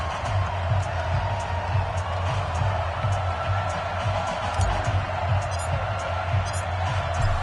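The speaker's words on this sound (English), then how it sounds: "This crowd is ready as their guys get set to match up between the Philadelphia Eagles and the Denver Broncos." Simulated stadium crowd from an EA Sports NFL video game, Eagles versus Broncos, a steady dense roar of cheering fans with faint whoops, continuous and loud throughout.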